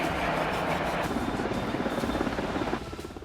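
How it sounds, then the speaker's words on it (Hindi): AgustaWestland EH-101 helicopter landing commandos onto a warship near Greenland, its rotor thudding in a steady rapid pulse under a broad engine roar, loud and close, easing slightly at the end. "यह है अगस्टा वेस्टलैंड का EH-101 हेलीकॉप्टर, जिससे कमांडो एक जंगी जहाज पर उतर रहे हैं।"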